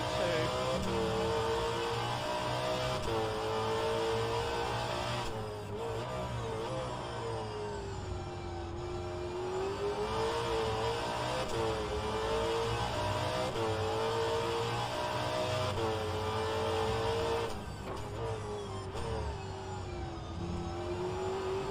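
V8 race cars roar around the Bathurst circuit in a racing video game, engines droning loud and continuous with rising and falling revs through gear changes and corners.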